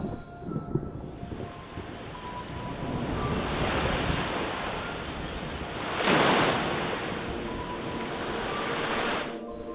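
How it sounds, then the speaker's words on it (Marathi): Stormy sea surf surging and crashing toward the shore under wind and heavy rain, a continuous loud roar with a stronger wave break swelling up partway through, no voices. "दहा बारा फुटी उंच लाटा किनाऱ्याकडे झेपावू लागल्या"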